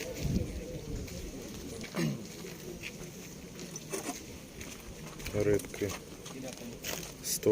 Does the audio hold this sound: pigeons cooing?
yes